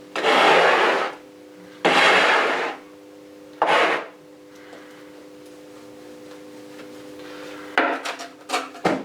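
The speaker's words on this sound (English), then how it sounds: "if I scrape some of this away" A pourable build-up material being scraped off a surface: three loud, close, gritty scraping strokes, then a quieter stretch with light rubbing, and a short burst of scrapes at the end, all over a steady low hum.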